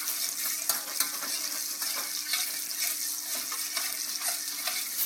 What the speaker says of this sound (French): J'essaye de faire fondre le beurre plus rapidement. Toujours mélanger, hein, pour pas que ça colle.